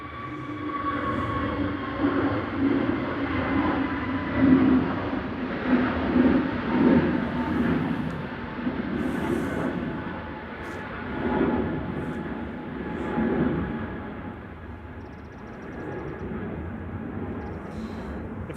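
An Airbus A380 going around at gusty Manchester Airport, a loud sustained jet engine roar that swells and rumbles for the whole stretch as the aircraft passes overhead, with wind buffeting.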